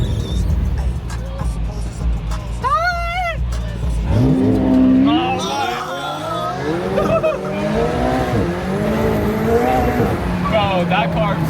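Supercar engines revving hard and accelerating, loud rising and falling rev sweeps with a possible tire squeal, close by, with people talking over the engine noise.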